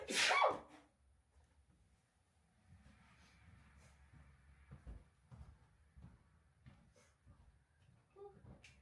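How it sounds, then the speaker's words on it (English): A single sharp sneeze bursts out at the start, near and loud, then gives way to quiet indoor rustling and faint clatter of cups being handled. "am gonna sneeze, pardon me."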